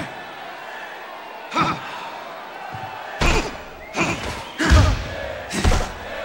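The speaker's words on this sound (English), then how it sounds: "Good two-punch combination by Irish." Punches landing in the Fight Night Round 3 boxing match between Corrales and Ward, a series of heavy thudding impacts, one alone and then several in quick succession, with commentary voices talking underneath.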